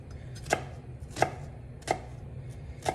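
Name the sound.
chopping half an onion with a knife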